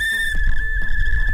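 A cheap 50-cent whistle is blown, giving a steady shrill tone that holds for the whole moment over a low rumble of background noise.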